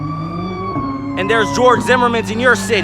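An ambulance siren wails past on a city street, loud and close, its rising and falling sweeps repeating over a steady hum while someone talks over it.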